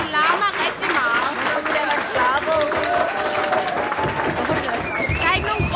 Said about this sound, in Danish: Der er ikke nogen grund til, at der bliver klappet.